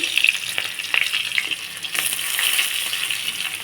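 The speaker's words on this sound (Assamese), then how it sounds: "পিঁয়াজখিনি ভালদৰে ভাজি লওঁ।" Onions fry in hot oil with a five-spice seasoning of panch phoron, giving a steady close sizzle with brief bursts of stirring, heard alone without talk.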